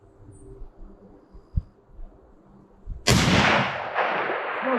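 A single loud, sharp crack from a 300 Win Mag sniper rifle fired outdoors, with a long rolling echo decaying after it, preceded by a few quieter thumps and faint background birdsong.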